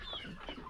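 A flock of laying hens clucks softly and continuously, several birds overlapping in a steady low murmur.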